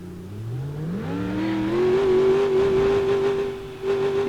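A car engine in the BeamNG.drive driving game revs up and accelerates, its pitch climbing steadily through the gears before holding a high, steady whine, with a brief dip near the end.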